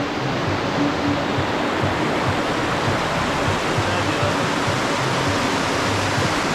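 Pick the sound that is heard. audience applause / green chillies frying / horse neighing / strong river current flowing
strong river current flowing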